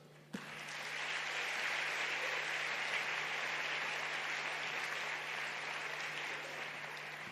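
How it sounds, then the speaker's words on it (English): Sustained applause from a large audience at the Africa Climate Summit plenary, rising sharply and holding steady, dense and even for several seconds. "A bigger round of applause, please, as they take their seats."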